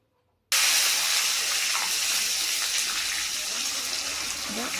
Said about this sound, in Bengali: এরপর টমেটো কুচি দিয়ে দিচ্ছি